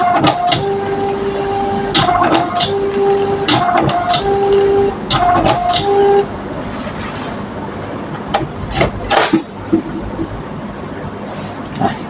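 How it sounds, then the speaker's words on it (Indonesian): An inkjet-style printer runs a print job, its carriage whirring back and forth in repeated steady tonal passes with clicks and paper-feed clunks, then stopping into irregular mechanical ticks and handling noises near the end. "sekarang boleh kita print"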